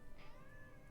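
A cat gives a short, faint meow, a single brief rising cry heard close but quiet over a low background hum.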